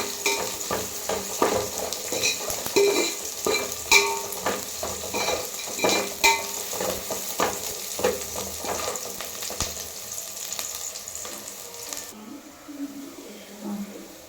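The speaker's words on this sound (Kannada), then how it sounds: "ಹಾಕಿ ಚೆನ್ನಾಗಿ ಫ್ರೈ ಮಾಡಿ. ಮೀಡಿಯಮ್ ಫ್ಲೇಮಲ್ಲೇ ಇಟ್ಕೊಬೇಕು ಗ್ಯಾಸು." Cloves and peppercorns frying in oil for a Bidar-style chicken gravy on a medium gas flame, with steady sizzling and repeated stirring clinks through most of the clip, easing off near the end.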